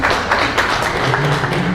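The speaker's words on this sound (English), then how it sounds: "A hand clap for Matthew." Audience applauding at an anniversary celebration event in Uganda, a steady wash of many hands clapping together throughout, moderately loud and fairly close, with no speech.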